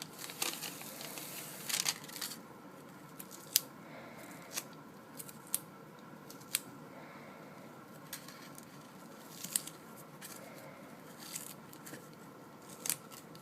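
Scissors snip through adhesive-backed tape, cutting it halfway for a chest drain dressing: several sharp, close clicks at irregular intervals over a soft rustling, quiet background.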